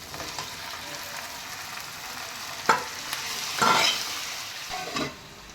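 Chicken frying in a pan with onion and ginger-garlic paste, a quiet steady sizzle broken by a few sharper bursts of stirring and scraping.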